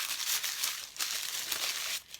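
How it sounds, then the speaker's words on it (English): A small piece of wax paper, torn from a roll, is crumpled by hand, giving a close, continuous crinkling and rustling for about two seconds with brief pauses, no talking. "and then I crumple it up"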